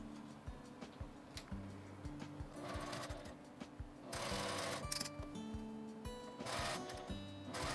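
Sewing machine stitching the collar seam of a doll's kimono with a 1 cm seam allowance, quiet close-up rapid mechanical ticking in short bursts with brief pauses between runs.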